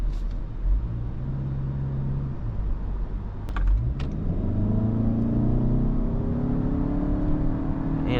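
A 2025 Toyota Camry hybrid in sport mode accelerates from a low cabin rumble, with a few sharp clicks, then a steadily rising engine and motor whine that climbs smoothly for several seconds.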